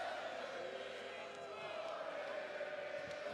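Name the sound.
wrestling crowd chanting Olés for Sami Zayn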